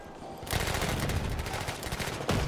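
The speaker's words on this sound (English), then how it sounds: "I can hear shotguns." Dense, close gunfire in the video game Battlefield 1, with shotgun blasts and rapid automatic fire merging into a loud, continuous rattling barrage that gives one heavy burst near the end.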